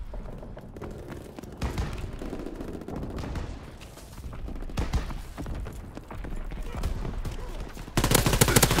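Rapid gunfire rattles through a Call of Duty WWII match played on an Xbox One X, with dense bursts of shots and thuds continuing throughout and a louder volley at the end, while a voice speaks faintly underneath.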